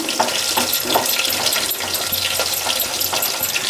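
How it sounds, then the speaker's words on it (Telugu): Water poured in a steady splashing stream while cooking outdoors in a village, continuous and close with no talk over it. "నీళ్ళు వంపినాను"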